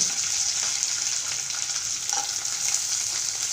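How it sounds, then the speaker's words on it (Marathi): Onion and green chili frying in hot oil with curry leaves, a steady, close sizzle with faint stirring scrapes running throughout, no voices. "आता कांदा टाकू हे आणि हिरवी मिरची"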